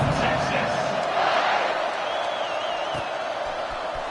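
Football stadium crowd cheering before a kickoff, a broad steady roar of many voices with scattered whoops, moderately loud and distant-sounding, under a commentator's voice.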